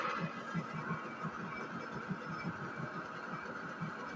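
A metal lathe spins up and runs at about 300 rpm while turning an MUVP-9 pin coupling, giving a steady mechanical hum with a faint rhythmic pulsing throughout.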